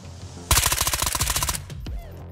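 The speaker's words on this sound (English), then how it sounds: "Sounds like you might have just killed one with all that gunfire." Rapid automatic gunfire in the Ghosts of Tabor VR shooter, a loud burst of about a dozen closely spaced shots lasting a second, followed by a few scattered reports and a quieter tail.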